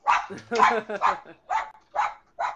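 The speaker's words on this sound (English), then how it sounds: "There goes my dog." Small dogs bark in a rapid series of sharp yaps at close range, six or seven barks in quick succession with short gaps between them.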